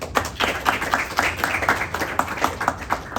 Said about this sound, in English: I want you guys to give yourself a round of applause.